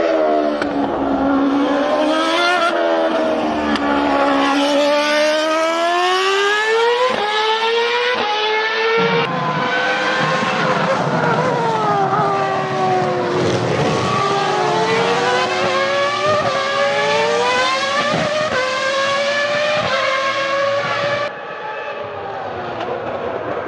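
Formula 1 V8, V10 and V12 engines scream past in succession, loud high-revving tones sweeping up and down through gear changes, each car's pitch rising and falling continuously with no talk over it.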